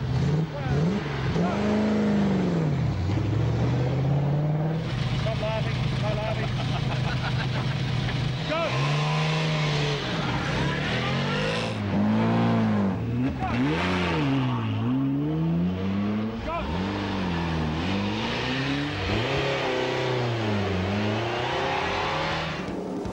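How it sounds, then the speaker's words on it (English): A huge Ford Galaxy race car on a Targa Tasmania tarmac stage in 1998, its engine revving up and down through repeated gear changes, with a constant loud drone and occasional tyre noise. "Mike Moylan and Kim Chance's huge Ford Galaxy isn't as nimble as an MG, but it will have its moments later in the event"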